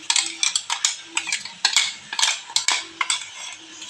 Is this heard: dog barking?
no